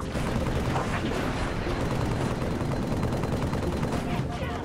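Dense, continuous automatic gunfire from a Halo 3 firefight, loud and sustained with overlapping bursts and rattling shots filling the whole stretch.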